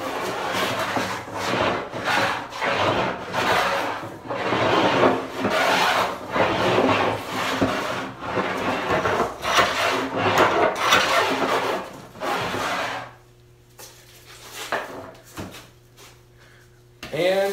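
A hand tool bevels the back edge of a slab of wood clamped down for stock preparation, making continuous rhythmic rasping strokes, close and loud for about twelve seconds before quieter handling noises and a hum take over.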